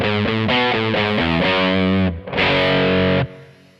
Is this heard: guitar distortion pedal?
yes